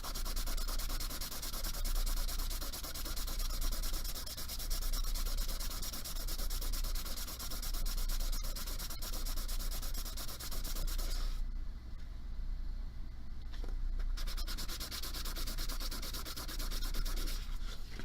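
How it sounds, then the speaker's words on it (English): Continuous gritty sanding of fire scale off a metal pendant bezel, a steady abrasive rub that runs nearly nonstop with one brief break, close and fairly loud. "see how I'm sanding away most of that nasty fire scale and stuff"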